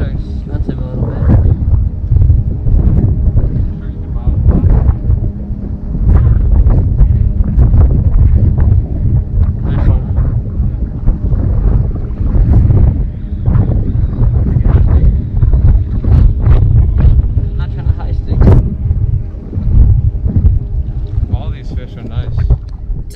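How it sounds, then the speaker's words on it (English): Strong wind blowing outdoors on the water during a mullet fishing trip, loud and continuous, buffeting the microphone with rumbling gusts throughout. "Despite the windy conditions, we did find a little secluded area"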